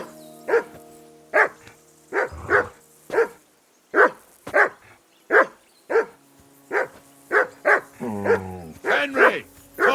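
A dog in the game Kingdom Come Deliverance 2 barks persistently, some fifteen sharp barks in quick succession, sometimes doubled, loud and near over a faint background hum.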